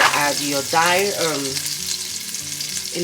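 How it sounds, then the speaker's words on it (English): Onions sauté in about three teaspoons of sesame oil for fried rice, sizzling steadily and loudly in the pan while a utensil stirs them with soft scraping. "After adding the sesame oil, about 3 teaspoons, we are going to be sauteing the onions."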